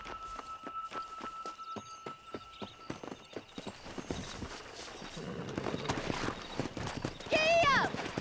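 Horse hooves clip-clop in Red Dead Redemption, a rhythmic trot that builds toward a gallop, with voices talking over it and a horse whinny near the end.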